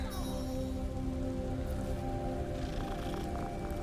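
A cat meows in the Hogwarts Legacy video game, a short mewing call over a steady hiss of rain-like ambience.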